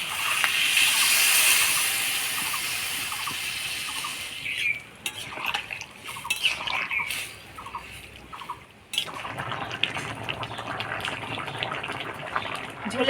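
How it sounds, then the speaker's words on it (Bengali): Broth is poured into a hot pan of cooking bottle gourd shoots, with a loud steaming hiss and gush at first, then choppier splashing, sputtering and bubbling as the liquid settles. "তো এবার ঝোল দিয়ে দিব।"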